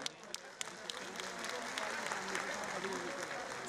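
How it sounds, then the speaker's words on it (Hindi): Faint, distant audience applause at a Khadi festival event, a soft continuous patter of many hands that slowly swells, with a few sharper claps near the start and no clear speech. "सभी लोग तालियों के माध्यम से इस वेला में जुड़ सकते हैं।"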